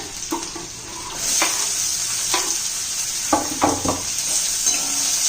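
Onion fries with ginger-garlic paste and curry leaves in a pan, a steady sizzle under repeated clinks and scrapes of a spoon stirring against the metal.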